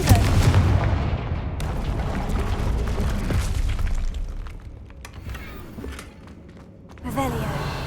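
A Confringo fire spell in Hogwarts Legacy erupts with a loud booming explosion and crackling burst, then fades into a lingering rumble before another blast near the end; a voice is heard over it.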